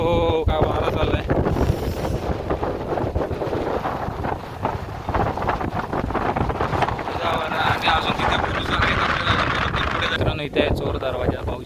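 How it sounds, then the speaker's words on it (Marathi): Strong monsoon wind buffeting the microphone on a trek at Korigad Fort, a loud continuous roaring rumble throughout, with a person talking over it. "काय वारा चाललं आहे."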